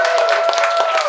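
Comedy club audience clapping and whooping together at a Pittsburgh stand-up show, a brief dense burst of applause with a steady tonal hum running underneath.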